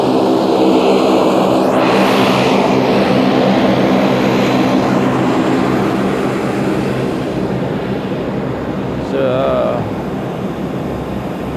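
A steady, loud drone of a small airplane cabin on a flight into Kyrgyzstan, with propeller engine noise filling the whole stretch, a voice briefly audible beneath it.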